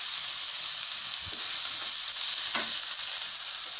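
Chopped tomatoes fry and sizzle in a hot pan while being stirred, cooking for a Coimbatore-style fish curry masala; a steady close hiss runs throughout, with a few soft scraping stir strokes and no talking.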